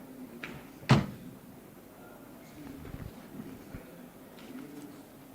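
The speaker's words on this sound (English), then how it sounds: "How does the door close on this one?" A single sharp thud of an ACE EV electric van's door shutting, followed by quiet background noise with a few faint clicks.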